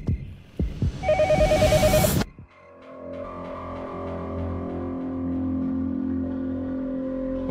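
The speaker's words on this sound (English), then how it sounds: "Phone." A phone rings in the horror game Yomawari: Night Alone: a brief electronic ringing burst of about two seconds, then low droning ambient game tones, with no talking.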